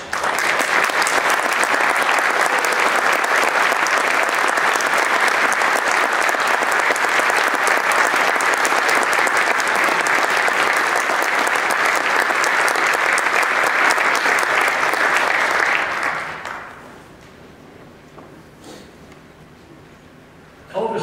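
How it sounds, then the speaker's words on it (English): A concert audience gives a long, full round of applause for four performers, dense, even clapping from many hands that fades away near the end, leaving quiet. "why don't we have them all four stand one more time for a round of applause"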